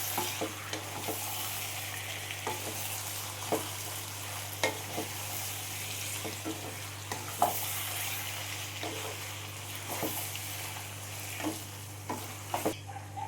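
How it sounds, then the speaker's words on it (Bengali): Salted mutton masala stirred in a pan, soft sizzling underneath scattered scrapes and knocks of the spoon, fairly quiet and close, with no talking. "দিয়ে আবারও আমি ভালো করে নাড়াচাড়া করে নেব"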